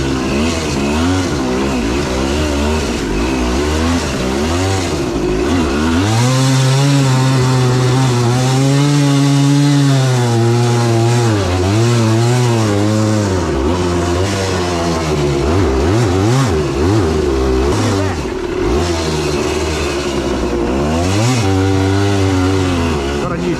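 A three-wheeler engine runs after a kickstart with a raspy, buzzing putter that revs up and down in loud repeated surges, and voices speak over it near the microphone.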